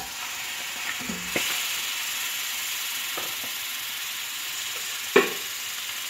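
Chicken added to a hot non-stick kadhai, a steady broad sizzle with a few clanks and a sharp utensil knock near the end.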